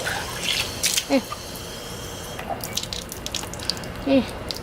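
Tap water runs into a small bottle or container being filled for a homemade micro garden, a steady close trickle with a couple of hollow gurgles and drips, and a voice faintly heard.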